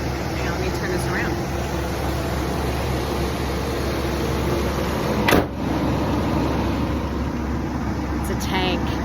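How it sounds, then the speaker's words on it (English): A car engine idles steadily at close range, a low, even drone that holds the whole time, with a short sharp noise midway. "Sound of a well-made car, y'all."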